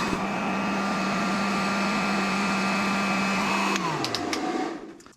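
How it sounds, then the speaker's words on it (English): A heat gun runs off a 12V LiFePO4 battery power station with a steady, loud fan-and-element whir that holds for several seconds, then winds down in pitch and fades to quiet. "Heat gun."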